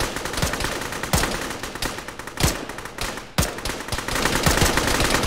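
Machine gun fire rattles through a jungle combat scene in a military video game, with sustained rapid bursts and several heavier, sharper shots standing out over the din.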